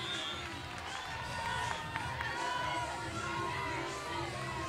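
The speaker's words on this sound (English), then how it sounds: "Bruins cheering on their teammates" UCLA Bruins players cheer on their teammates at the NCAA beach volleyball national championship, with excited shouts and crowd noise rising over a busy outdoor background while a voice talks.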